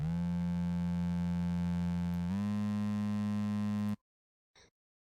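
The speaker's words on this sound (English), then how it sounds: "Saw waves can be quite aggressive sounding, and we've dropped it an octave lower" Saw wave synth dropped an octave lower holds a loud, steady, buzzy tone that shifts pitch slightly partway through, then cuts off abruptly, followed by a faint short blip.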